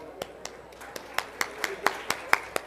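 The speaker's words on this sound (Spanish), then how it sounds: "para quien le pedimos un aplauso" Scattered applause from a small audience for a presidential candidate at a conference event, light and sparse individual claps that grow slightly steadier, fairly faint and distant.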